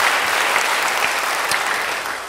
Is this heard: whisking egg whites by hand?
no